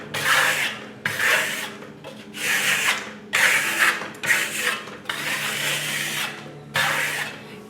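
A trowel burnishes Italian lime plaster in repeated long, scraping strokes, each a sustained rasping rub separated by short pauses, close and clear with no talking.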